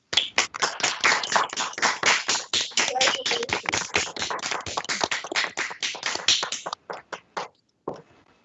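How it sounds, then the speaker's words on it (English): Court panel members clapping over unmuted remote microphones for newly admitted attorneys, a close, fast series of individual claps that continues steadily, then thins out and stops near the end. "give the new attorneys a round of applause"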